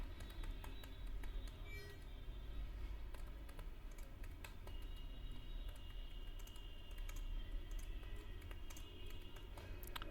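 Steady, fast typing on a computer keyboard while filling in a web form, continuous close clicking of keys with a constant background hum.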